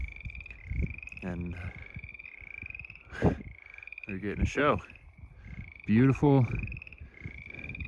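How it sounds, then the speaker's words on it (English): Frogs croak by a small lake at night beneath a campsite, repeated rattling and creaking calls in bursts of varying loudness over a constant high insect-like trill, with a person speaking quietly in between. "You can hear those frogs over there."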